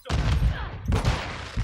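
Shotgun fire in a first-person shooter on the Shipment map: three heavy, booming blasts spaced apart, each with a ringing, decaying tail, loud and close with no talking.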